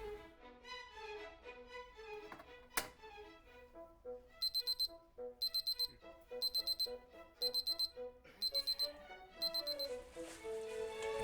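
An oven temperature alarm, set for a turkey roasting in cast iron, beeps in repeated quick bursts of high electronic tones, four or five beeps per burst. The beeps sound over soft kitchen background with tonal music or hum underneath.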